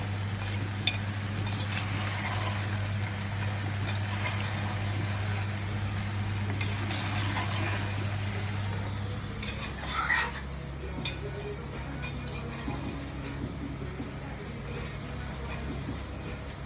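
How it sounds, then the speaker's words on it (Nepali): Mushrooms stir-frying in a pan for mushroom pulao, a steady close sizzle with occasional stirring scrapes and a low constant hum underneath, no talking. "यसलाई मजाले भुट्नुपर्छ क्या, निकै बेरसम्म"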